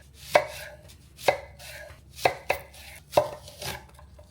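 A knife chops onions into rings on a cutting board, five sharp, distinct cuts spaced roughly a second apart, close and clear with no talking.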